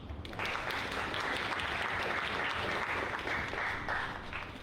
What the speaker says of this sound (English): give a huge round of applause for all our Expatpreneur Awards 2021